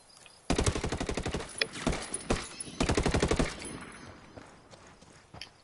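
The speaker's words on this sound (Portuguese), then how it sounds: "Quem tá atirando aí?" Rapid automatic video game gunfire rattles out in several long bursts, loud and close, with single shots between them and a quieter tail at the end.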